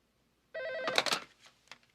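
A telephone rings once in a tense hostage scene, a short electronic bell burst that starts abruptly and then fades into a brief rustle, with no one speaking.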